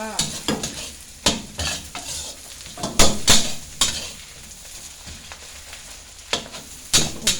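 Tofu stir-frying with fried garlic and onion in a pan: loud, repeated scrapes and clanks of a utensil against the pan over a steady sizzle, in uneven strokes with short pauses.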